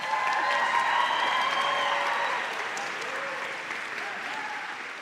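Graduating class at a university convocation ceremony applauding their families, friends, faculty and staff, a dense, sustained roar of many clapping hands filling a large hall, slowly easing off toward the end.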